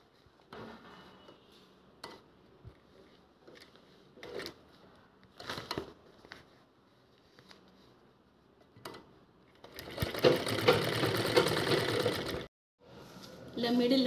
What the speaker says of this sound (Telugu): ఇక్కడ నుంచి మళ్ళీ స్టార్ట్ చేసి స్టిచ్ చేసుకోవాలి